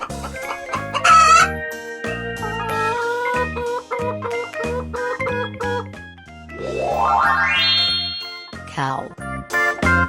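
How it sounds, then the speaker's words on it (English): A rooster crows once, a rising and falling cock-a-doodle-doo, over bouncy children's background music. "Chicken."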